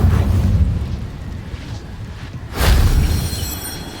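A fire spell cast in the video game Hogwarts Legacy gives a loud whooshing, rumbling burst near the end, rising from a low, steady game background.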